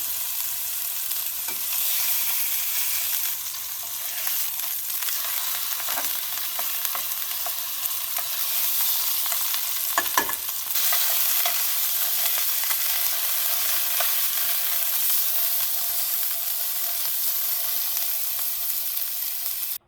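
Venison sears in a hot pan with a loud, even hiss that runs continuously throughout, broken only by a few faint taps and shifts.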